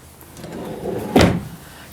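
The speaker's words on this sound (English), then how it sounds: "Drawer above the fireplace." A solid wood drawer above the fireplace in a 2008 Carriage Carri-Lite 5th wheel trailer, heard as one soft sliding thud of opening or closing, close by in a quiet room.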